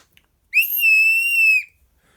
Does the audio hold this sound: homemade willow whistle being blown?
yes